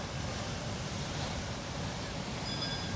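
Ocean surf washing onto the beach at Digha on a windy day, a soft continuous roar of breaking waves mixed with gusty wind noise, faint and distant.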